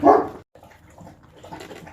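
A dog in a busy household with several dogs and cats gives one loud close bark, followed by quieter yips and whimpering noises.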